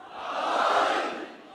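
A Muharram majlis audience in an imambargah raises a brief collective chant, a swelling crowd shout that rises and fades within a moment.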